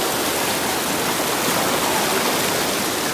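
A shallow stream flows as someone wades through the water on foot, producing a steady, loud broadband rush with no pauses and no voices.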